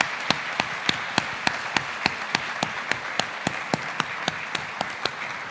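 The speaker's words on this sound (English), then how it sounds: "I ask an applause to Roisin" Audience applause at the close of a health technology assessment conference session, with sharp, evenly spaced claps standing out over a continuous wash of many hands clapping, close and sustained throughout.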